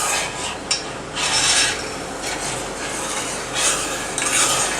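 Sugar syrup and milk being stirred in a pan, a rough rasping scrape of the spoon repeated in uneven bursts against the metal, close and fairly loud, without talk.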